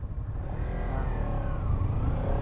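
A BMW car passes by on a street lined with other cars, a steady low engine rumble with a slight rise in revs, fairly close and continuous with no talking.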